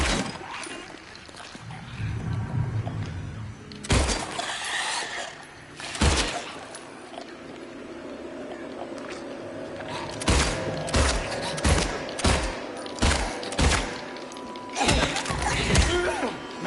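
Gunfire in the Silent Hill 2 Remake as a creature is shot down: a long run of sharp reports, first spaced out and then in a quick rhythmic volley, over a dark ambient game background.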